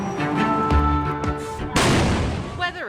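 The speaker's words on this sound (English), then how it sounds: "this massive illegal fireworks explosion in California" A massive illegal fireworks explosion in California: several deep booms and sharp cracks ring out, then a sudden heavy roaring blast with crackling debris, loud and chaotic, with a voice talking over the first part.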